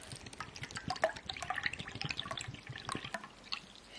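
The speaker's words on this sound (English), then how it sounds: "now we're going to put 2 cups of water inside" Water pours and splashes into a bowl of cornstarch for a kids' science experiment, heard as quiet, irregular drips and trickles at close range.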